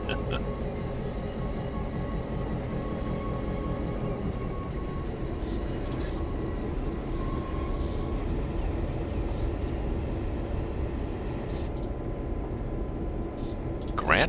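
Train rumbling along the Springfield Line in Train Simulator 2020, a continuous low engine drone with steady mechanical hum and occasional faint higher squeals, running evenly throughout.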